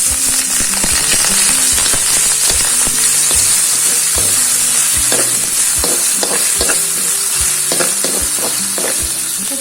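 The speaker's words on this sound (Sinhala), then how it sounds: "තෙල් ටික රත් වෙනකොට අපි මුලින්ම කරාගත්ත ඉඟුරු සුදුලුණු පේස්ට් එක එකතු කරගන්න ඕනේ." Ginger garlic paste hits hot oil for nasi goreng, making a loud, continuous close sizzle with dense crackling and rhythmic stirring scrapes throughout.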